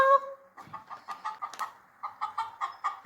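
A hen clucks close by for an animal sound guessing game: a short opening call, then a steady run of quick, rhythmic clucks in two bursts, loud and clear with no talking.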